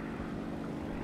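Propeller aircraft drone steadily overhead in a combat flight game, a continuous mid-pitched engine hum holding even and fairly close for about a second, with no voices over it.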